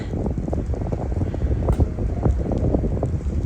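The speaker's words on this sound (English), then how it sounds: "I saw the wind swirling snow around higher up on the ridge just a few seconds ago. It's very windy" Strong wind sweeps across a snowy mountain ridge on the Appalachian Trail, where ice is forming on a trail lined with evergreens. The wind roars and buffets close to the microphone in a steady, gusting rumble, with no voices.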